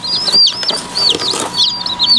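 Baby chicks give repeated high, thin cheeps in quick bursts, close and fairly loud, with soft clucking mixed in and no talking.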